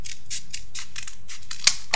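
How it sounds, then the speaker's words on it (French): Scissors cut through paper sheets for a folded booklet, a series of crisp, close snipping strokes in a regular rhythm, ending with a sharp louder snip. "je vais tout simplement ici couper mes feuilles"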